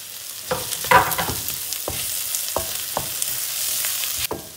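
Finely chopped green peppers fry in a pan for a liver and onion casserole, giving a steady close sizzle broken by several sharp clinks and scrapes of stirring.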